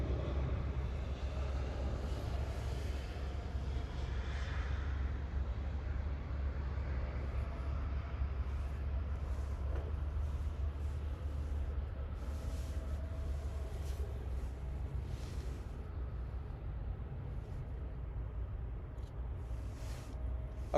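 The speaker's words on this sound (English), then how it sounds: "So these are the A380s that are going to be taken off." A Lufthansa Airbus A380 roars continuously through a takeoff at Munich airport, a steady, heavy low rumble heard from a distance that holds its level for the whole stretch with no voices.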